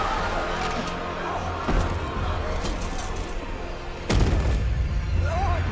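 Gunfire from a movie scene, with two sharp broadband bursts over a steady rumbling soundtrack and speech.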